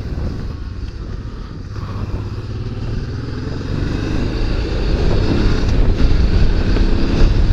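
Riding a Honda Transalp 650 motorcycle: a steady engine drone mixed with heavy wind rush against the microphone, growing louder as the bike accelerates toward the end.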